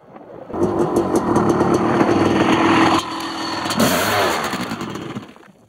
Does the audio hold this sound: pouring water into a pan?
no